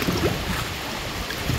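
Strong rushing river water at Pagsanjan Falls in Laguna during the rainy season makes a steady, broad roar, fairly soft and continuous with no voices.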